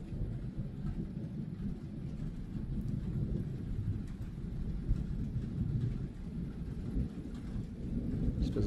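A heavy thunderstorm with torrential rain roars steadily and loudly, thunder rumbling and cracking throughout under the constant downpour, with no voices.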